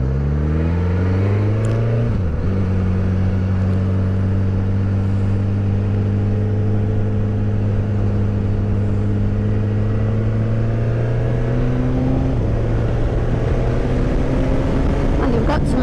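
A 2024 Suzuki GSX S1000 GT motorcycle engine pulls hard and rises in pitch, then drops sharply with each quick gear change and climbs again, loud and close under steady wind rush.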